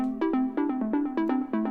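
Synth patch playing a rhythmic sequence of bright, harmonically rich notes, the second oscillator muted and then slowly faded in; repeated stabs around two to three per second, loud and alone without speech.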